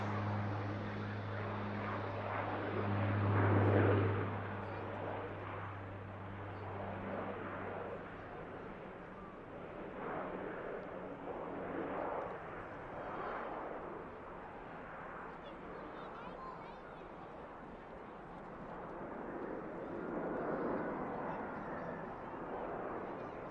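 An aircraft departing Manchester Airport, heard as a distant, low engine roar that swells early and then fades under near-constant talk.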